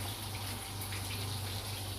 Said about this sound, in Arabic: ونحط المرقه اهو